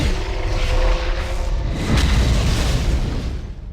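Starship weapons fire and explode in the space combat game Klingon Academy, a loud, deep rumbling boom that swells and holds for a few seconds before fading.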